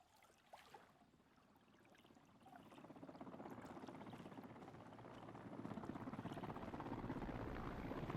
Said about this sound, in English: Now there's helicopters?